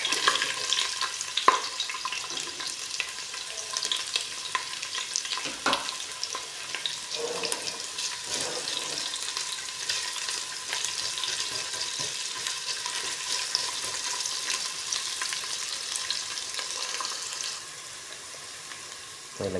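Ginger and onion frying in a pan for chicken adobo, giving a continuous close sizzle with a few stirring clicks, which settles and quiets near the end; no talking.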